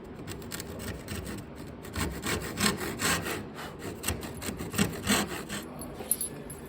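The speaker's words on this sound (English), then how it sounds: "The rest of that cut would be done with a tenon saw." A tenon saw cuts through wooden skirting board in steady back-and-forth strokes, a close, rasping rhythm with no talking.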